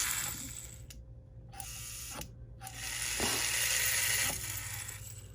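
A 1946 Lionel 221 toy train motor with unoiled armatures runs with a steady mechanical whir and buzz, broken by a few brief cutouts, close and fairly loud with no talking.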